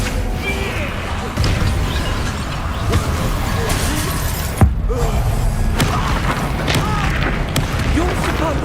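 Confringo blasting spell exploding during a Hogwarts Legacy battle: loud, dense combat noise with crashing, shattering impacts and one sharp bang midway, continuous throughout.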